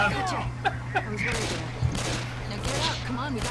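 Gunfire in the video game Left 4 Dead 2 crackles in scattered shots and short bursts throughout, mixed with game noise and people talking over it.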